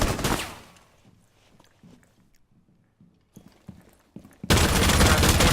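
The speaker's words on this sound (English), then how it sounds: "just missing those shots onto that Ella" Loud bursts of automatic gunfire in an esports video game match open and close the moment, with quieter scattered clicks and shots in between.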